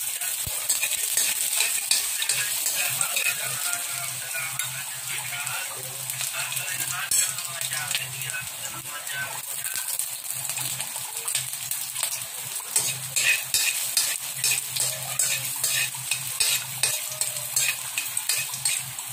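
Ginger sizzling and frying in hot oil in a pan while cooking chicken neck adobo, with steady close crackle and occasional stirring scrapes, no talking.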